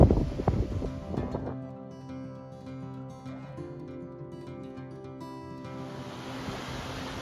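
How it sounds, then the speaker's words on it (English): A brook flows through a forest along the Appalachian Trail, giving a steady, continuous rush of water with a constant hiss and no voices. "It's a nice view here of a brook heading through the forest."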